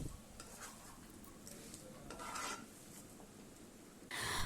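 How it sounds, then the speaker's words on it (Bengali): A coconut and jaggery sweet filling being stirred in a wok over a low flame, with soft continuous scraping and a faint sizzle, quiet and close, ending with a brief louder scrape. "লো ফ্লেমে নাড়তে নাড়তে রান্না চালিয়ে যাব আরও 2 মিনিটের মতো"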